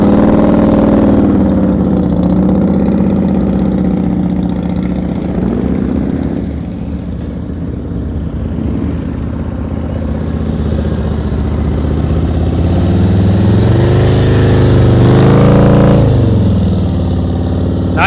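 Motorcycle engine held at low throttle during slow-speed riding practice in Maryland, a loud, steady near rumble that dips slightly in the middle and swells again toward the end, with no talking.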